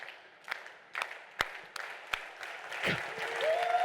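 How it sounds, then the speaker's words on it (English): Audience at a business keynote on running ads doing a slow clap, single sharp claps spaced about half a second apart, then a rising swell of crowd noise toward the end. "like a slow clap here"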